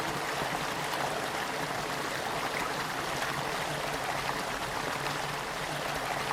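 A river in a golden forest on a hill walk up Ben A'an in the Trossachs rushes in a constant, full, close wash of flowing water, unbroken throughout.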